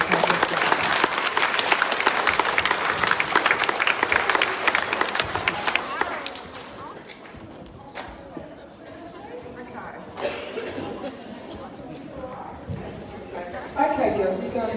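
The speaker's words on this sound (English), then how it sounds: "let's give Renesmee and Bella a big clap as well" Children at a school assembly clap together in a burst of loud applause that fades after several seconds, followed by quieter room chatter and a few scattered sounds.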